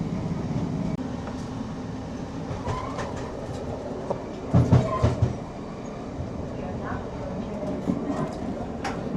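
A Scotrail Class 156 diesel train rumbles along as it approaches Kilmarnock, heard from inside the carriage, with a steady low drone, a brief burst of clattering wheel noise midway and faint voices in the background.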